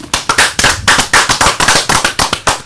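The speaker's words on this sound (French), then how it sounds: "Est-ce qu'on peut encore applaudir Annie?" Audience applauding Annie on a television set, a burst of sharp, rhythmic claps in steady pulses, loud and close, with no talking over it.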